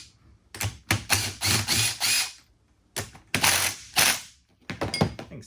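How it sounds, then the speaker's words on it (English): An impact driver loosens screws on a Buck 3-jaw Adjust-Tru chuck in several loud, close ratcheting bursts separated by short pauses. "tight for the impact driver there. I'll just loosen these up."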